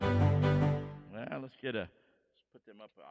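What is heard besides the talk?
None of the usual background noises is heard.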